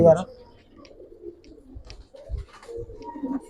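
Old-breed Giribaz pigeons coo softly in a loft, low murmuring coos rising and falling over a few seconds, with someone talking close by.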